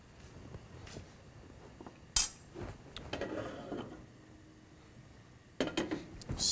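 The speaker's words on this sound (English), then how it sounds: "Stir one more time just to make sure you have nothing sticking on the bottom" A spoon stirs potato leek soup in a pot, with scraping and clinks against the metal, a sharp clank near the start and another burst of clatter toward the end, close and moderately loud, with no talking.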